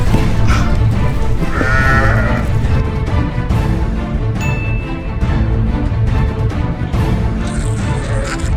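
Sheep bleat repeatedly at a sheepfold in a European capital city, a dense, loud chorus of overlapping calls from a flock close by, with no talking.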